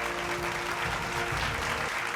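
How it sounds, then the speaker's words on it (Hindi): Loud, dense applause from the audience at the Bhojpuri Samman 2026 awards show, a steady wash of clapping with music underneath. "तो एक बार जोरदार तालियां जी भोजपुरी सम्मान 2026 के लिए।"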